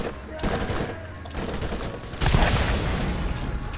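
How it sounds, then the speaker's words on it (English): Rapid gunfire in the co-op shooter video game Borderlands 4, with dense overlapping bursts that swell louder partway through and keep going as a sustained barrage. "Stop shooting, bro."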